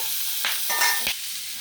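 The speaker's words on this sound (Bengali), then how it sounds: "আমি কিন্তু একদম হালকাভাবে মাছের কাঁটাগুলো ভেজে নিয়েছি" A continuous sizzle of fish bones frying in oil, with a couple of short scraping stirs in the middle.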